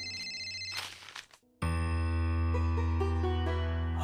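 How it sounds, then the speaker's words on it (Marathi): A telephone rings with a loud, sustained electronic ringtone in a home, beginning after a brief jingling passage and continuing steadily to the end. "मालकांचा फोन आहे।"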